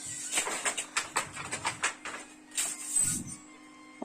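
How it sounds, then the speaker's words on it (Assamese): A weaving machine works saree fabric designs in a Sualkuchi workshop, giving a run of sharp rhythmic clacks and taps with a steady background hum, fairly close and without talk. "এইটো মেচিন হয়, ইয়াতে ডিজাইনবোৰ আহে"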